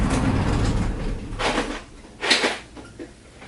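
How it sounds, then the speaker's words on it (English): A closet door slides and bumps open nearby, a rumbling scrape followed by a couple of sharper rattling knocks, with no talking over it. "So pardon the closet door opening."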